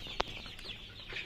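Tiger-breed chicken chicks at a poultry farm give a sharp cheep near the start, with softer peeping and faint clucks scattered through a short quiet stretch.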